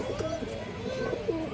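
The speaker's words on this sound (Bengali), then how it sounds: "খুব সুন্দর একটা মাদি কবুতর।" A large female pigeon coos at a pigeon seller's stall, a few soft rolling coos close by over a low murmur of background voices.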